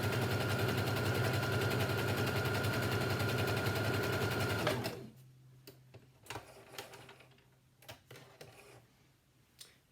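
A sewing machine runs a seam down the long side of a fabric face mask, a fast steady mechanical clatter for about five seconds that then stops, followed by scattered small clicks and handling noises.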